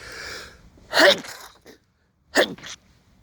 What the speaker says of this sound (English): excuse my sneezing